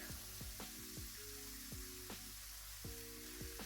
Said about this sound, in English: get that chicken starting to fry.